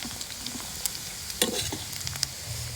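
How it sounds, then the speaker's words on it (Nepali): Chicken pieces frying in a pan for Nepali chicken achar, a steady close sizzle with occasional stirring clatter from a utensil, running alone without talk. "कस्तो राम्रोसँग फ्राई भइरहेछ चिकन चाहिँ"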